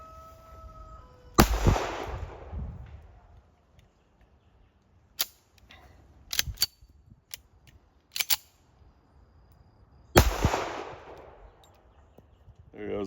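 Three loud gunshots from a 1943 Colt 1911A1 pistol ring out on a range, each a sharp crack with a decaying echo, separated by several softer clicks and handling clatters of the gun.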